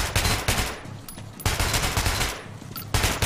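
Bursts of automatic gunfire in the video game Metro: Last Light, three loud rapid volleys each lasting about a second, separated by brief lulls with lingering echo.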